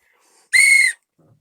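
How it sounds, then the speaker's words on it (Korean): A single sharp, shrill whistle blast from a handheld whistle lasting under half a second, loud and close, with near silence before and after. "호루라기입니다"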